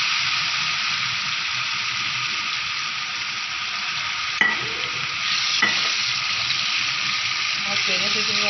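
Eggplant bhurta mixture of mashed baingan and masala frying and being stirred in a pan, a steady close sizzle throughout with a couple of sharp clinks from the spoon against the pan.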